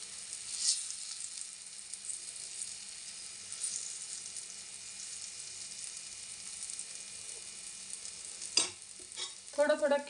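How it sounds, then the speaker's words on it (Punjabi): Lauki (bottle gourd) chilla batter sizzles softly in ghee on a hot tawa, a thin steady hiss with a few scraping clicks from a spatula near the end. "ਹੁਣ ਆਪਾਂ ਜਿਹੜਾ ਬੈਟਰ ਤਿਆਰ ਕਰਿਆ ਧੀ ਉਹ ਤਵੇ ਦੇ ਉੱਪਰ ਪਾ ਲੈਂਦੇ ਹਾਂ।"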